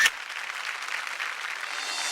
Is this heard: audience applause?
yes